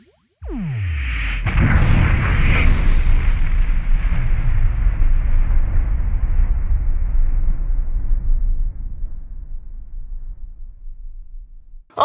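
A loud cartoon-style explosion bursts at once, then a heavy rumbling roar holds for about ten seconds before slowly fading, with no talk over it.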